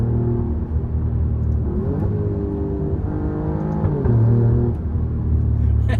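A 2023 Alfa Romeo Giulia QV engine pulls hard while driving, a loud, close rumbling drone rising in pitch through gear changes with no talk over it.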